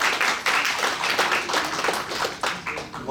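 A dense burst of applause from a mushaira audience, many hands clapping steadily together for about three seconds, loud and close, with no voices over it.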